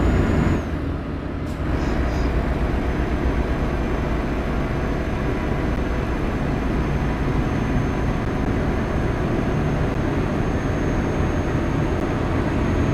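A Renault truck in Euro Truck Simulator 2 labours up a hill, its engine a loud, steady low drone that holds unchanged for the whole stretch after a brief hiss at the start, with no talking.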